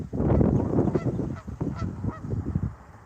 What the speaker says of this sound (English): And here comes a flock of geese on cue right now.